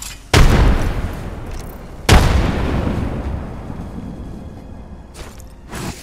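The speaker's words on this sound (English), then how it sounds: "Throwing grenade." Frag grenade explosions in the Apex Legends video game, two loud close booms a couple of seconds apart, each with a long rumbling decay, followed by faint clatter and no talking.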